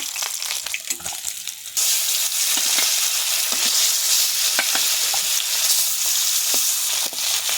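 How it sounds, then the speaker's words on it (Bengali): Satin fish frying in hot oil in a pan, a steady loud sizzle that jumps up and stays dense throughout, with occasional scrapes of stirring and no talk. "এভাবেই সব ভেজে নেব মাছ ভাজা হয়ে গেছে"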